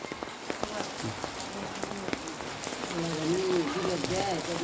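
Steady rain pattering on a surface with scattered drips on the morning of Eid al-Fitr, while a person talks briefly in the latter part over the downpour.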